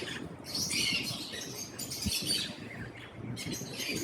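A breeder pair of exhibition pet birds chirps and tweets in quick, busy bursts at a pet setting in Islamabad. The calls are fairly close and continuous over light background noise.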